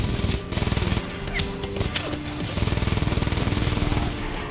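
Gunfire in the video game Just Cause 3 strikes the player character, heard as dense, rapid automatic bursts that repeat in rhythmic runs across the clip, loud and close, with no talk.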